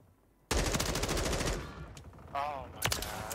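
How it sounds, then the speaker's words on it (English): An M4 rifle fires in Warzone 3 as one loud, close, rapid automatic burst of about a second. A quieter mix of game effects and a short voice-like warble follow. "M4 be shooting"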